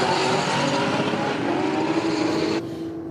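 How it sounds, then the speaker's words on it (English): A Holden Commodore and a Mitsubishi Sigma launch side by side at a drag race. Their engines let out a loud, raspy roar that holds for a few seconds and then drops off abruptly as they pull away. "The Commodore battling to stay in a straight line there, moved around a fair bit, but the driver not getting out of the throttle"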